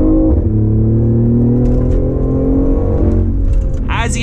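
A BMW i8 with a turbocharged three-cylinder and full custom exhaust revs loud on a downshift while cruising in California, a steady close engine drone climbing in pitch, ending with a brief high whine.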